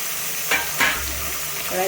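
Spices crackle and sizzle in hot oil in two quick bursts as a dish is tempered, with a bit of stirring and a steady hiss underneath.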